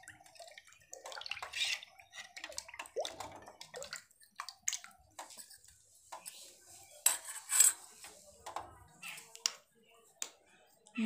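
Rice flour batter being stirred with water in a pot for papad: irregular metallic scraping, clinking and wet sloshing close by, with a voice talking at times between the strokes.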